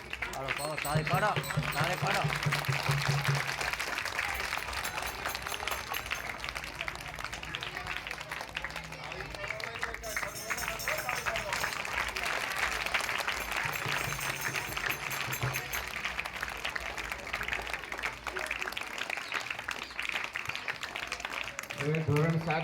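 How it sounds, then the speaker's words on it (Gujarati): At a school Republic Day event, an audience claps in a dense, steady patter that lasts throughout, mixed with a voice over a loudspeaker. "તાળી પાડો."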